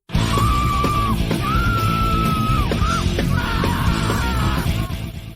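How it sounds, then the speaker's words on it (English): A woman in a theater rehearsal space screams her rage in song, sustained wailing vocal lines rising and breaking over a dense, loud instrumental backing that runs throughout. "Seeing no one else in the theater, she screams her rage in song."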